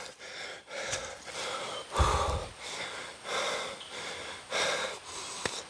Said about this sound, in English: I was the one breathing hard.